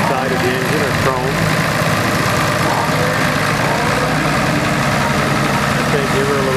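An International 1206 tractor idles with a steady, loud low rumble, continuous throughout, while people talk nearby over the engine.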